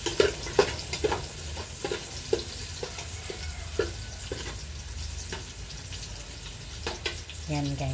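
Garlic and onions frying in a pan give a gentle sizzle, with rhythmic, repeated clinks and scrapes of a spoon stirring and faint water sounds toward the end.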